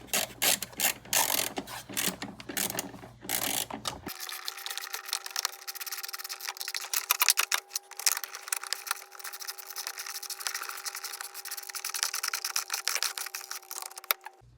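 Rapid ratchet clicking while 16mm bolts on the motor mounts of a Mk4 Golf/Jetta are tightened, busy bursts of close metallic ticks in steady runs over a continuous mechanical hum.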